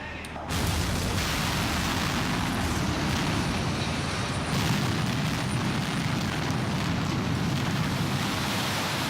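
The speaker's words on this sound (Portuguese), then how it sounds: "uma descarga elétrica causa explosão." Explosive blasting in a tunnel being dug under the Swiss Alps, fired from electric detonators packed into drilled holes, opens with a sudden loud boom and then a sustained, heavy roar that fills the space for several seconds.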